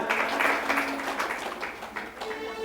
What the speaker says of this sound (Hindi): भाई धन्यवाद इनके लिए, ताली बजाओ।